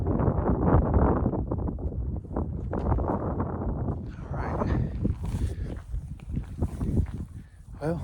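Strong wind roars and buffets the microphone at an Arctic roadside viewpoint on the drive to Tuktoyaktuk, a steady low rumble that runs through the whole clip, with a voice briefly audible.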